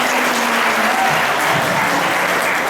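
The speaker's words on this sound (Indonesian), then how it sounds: "Ya, tepuk tangan sekali lagi." An audience applauds steadily and fairly loudly throughout, a dense wash of clapping at an Indonesian psychology seminar or campus event, with no one speaking over it.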